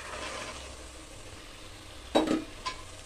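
A spoon scrapes and stirs field bean lentils into sizzling masala in a frying pan, a soft frying hiss under a couple of brief, louder stirring scrapes near the end.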